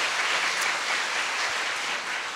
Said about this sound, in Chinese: 再次把掌声归给我们的神